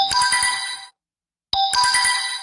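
A telephone ringtone plays loud and close in two bursts separated by a short silent gap, a bright repeating electronic melody with no talking.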